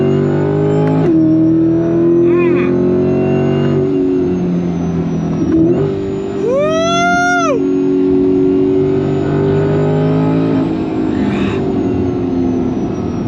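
A loud engine roars close by as a supercharged 2024 Corvette Stingray accelerates hard on track, revs climbing and dropping through gear changes, with a whining supercharger rise midway.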